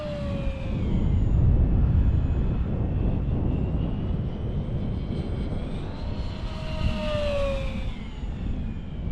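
A Durafly Goblin RC plane screams past at full throttle on a sunny winter day, a loud, steady jet-like whine with shifting pitch that rises and falls as the aircraft streaks across, alone with no talking.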